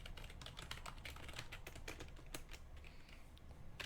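Steady clicking of fingers typing on a computer keyboard, a quick uneven patter of keystrokes close by and fairly quiet, slowing toward the end.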